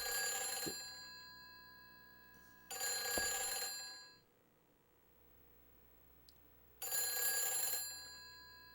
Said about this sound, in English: Ring, ring, ring, ring, ring, ring. Phone call, phone call.